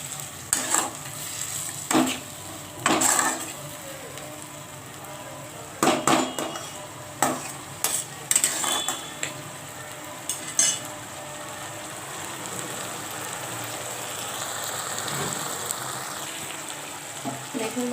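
Onion masala for tangra fish curry with spring onion, sizzling in oil in a pan while a spoon stirs and scrapes it in irregular clattering bursts over a steady fry.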